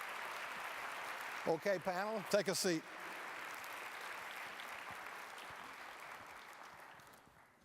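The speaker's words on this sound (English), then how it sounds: "Please give them a round of applause." A conference audience keeps up steady, somewhat distant applause after a research panel is introduced, with a brief spoken line from a nearby voice partway through.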